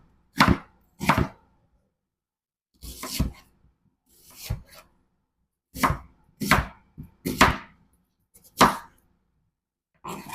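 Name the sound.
knife chopping an onion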